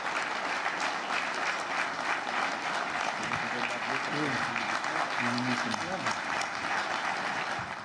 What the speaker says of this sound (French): voudrez-vous exprimer à travers vos acclamations l'élection du nouveau président de la CAF?